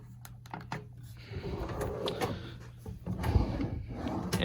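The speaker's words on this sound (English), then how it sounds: "And just a bunch of other random drawers with absolutely nothing in them." Empty drawers in a JW Marriott hotel room in Indianapolis being slid open and shut, several close wooden thuds and scrapes in succession with faint room noise between.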